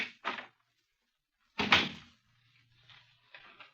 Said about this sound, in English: Behind this door...